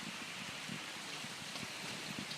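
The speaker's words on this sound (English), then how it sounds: "the rainwater is coming down and accumulating in this low level that we put into the concrete" Steady rain falls onto a newly poured concrete driveway beside a garage, a soft, continuous patter and wash of water with no voices.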